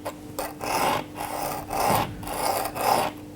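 Repeated rasping strokes of a hand instrument being sharpened on a stone, with the tip worked toward the cutting edge; four or five steady, evenly spaced scrapes, close and clear, with no talking.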